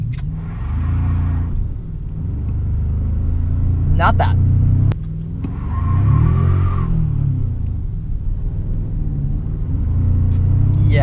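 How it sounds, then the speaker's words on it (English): A two-wheel-drive 2025 Toyota Tacoma TRD Pro truck held on the brake and torqued into a burnout, its engine rumbling and surging in two rising swells, with someone talking over it. "brake, torque it, and that's the burnout"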